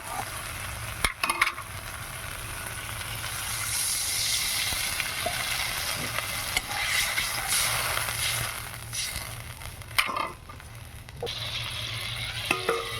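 Water poured into a frying pan of spiced poppy seed paste, giving a continuous loud sizzle and hiss with steam, broken by occasional clinks of a stirring spoon, no talk.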